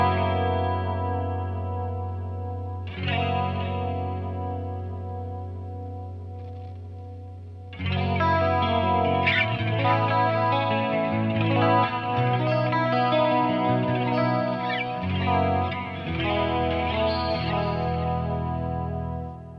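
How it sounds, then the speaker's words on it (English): Electric guitar through an MXR Wylde Audio chorus pedal, opening with a few sustained, softly shimmering chords, then a busier passage of strummed chords and picked notes at a moderate level with a light wavering, spacious tone. "it's not the most chorusy pedal in the world as far as the cleans go. It does sound really good though"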